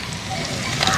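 Tomatoes tossed into onions already frying in oil for a home-cooked chicken curry give a brief, steady hiss of sizzling that lasts about a second, fairly close and loud, with no clear voice over it.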